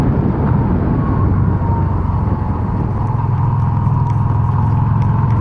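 Yamaha XV250 motorcycle with 17/40 gearing, its engine running continuously through the gears as a loud, dense, low rumble with heavy wind noise, no talking.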